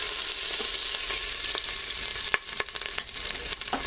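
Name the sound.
beef browning and spitting in an Instant Pot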